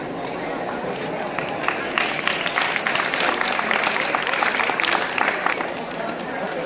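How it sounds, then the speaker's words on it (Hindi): Applause from the school staff and audience at a teacher's retirement farewell, scattered claps building into a fuller round midway, heard under crowd chatter and talking. "जोरदार तालियां बजाकर अभिनंदन कर रहे हैं विद्यालय परिवार"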